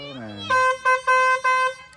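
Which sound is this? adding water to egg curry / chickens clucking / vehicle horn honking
vehicle horn honking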